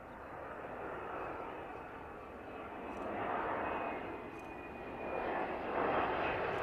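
VistaJet jet aircraft descending to land at East Midlands Airport, a distant, steady engine rush that swells gradually in waves and stays fairly faint.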